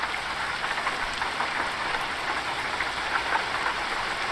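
Steady rain falls outdoors while a truck trailer is unhooked, a continuous broadband hiss of drops on surfaces with a faint low engine idle underneath, no talking.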